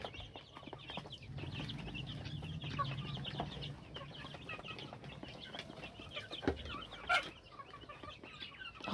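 Young chicks on a rooftop make soft, continuous peeping and clucking chirps, moderately close, with a few louder thumps and rustles near the end and no talking.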